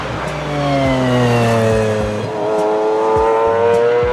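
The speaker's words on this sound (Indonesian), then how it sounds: "mesin BMW S70 memang dikenal sebagai salah satu mesin dengan suara terbaik dalam dunia otomotif" BMW S70 V12 engine in a car revving hard, with a smooth rising multi-harmonic howl that climbs and falls through several gear pulls, loud and close with no talk.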